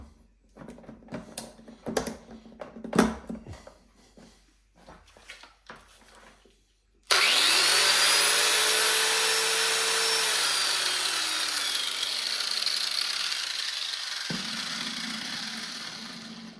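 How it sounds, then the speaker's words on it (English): A 600-watt angle grinder is handled with scattered clicks and knocks. It then switches on with an abrupt, loud, steady whine whose pitch slowly sags over several seconds before it cuts off. "And here we have 600 watt angle grinder."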